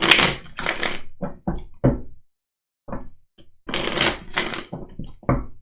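Cards are riffled and snapped in repeated bursts, with crisp clattering bursts separated by short pauses.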